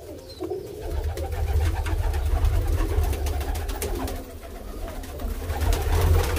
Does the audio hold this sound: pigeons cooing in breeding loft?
yes